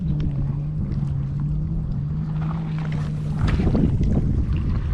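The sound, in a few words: wind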